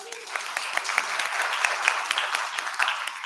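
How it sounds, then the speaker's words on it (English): A room full of people claps steadily for a presenter at a business event opening, dense continuous applause with scattered sharper hand claps throughout. "Please give him a round of applause."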